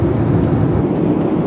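Inside the cabin of an Air India airliner cruising from Paris toward Delhi, a loud, constant low whooshing roar fills the space evenly, with no talking over it.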